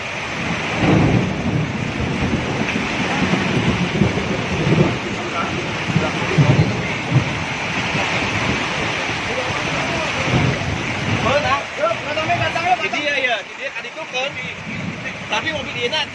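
Heavy rain and strong wind lash the government centre district in a storm, making a dense, steady roar with gusty rumbling and scattered voices underneath.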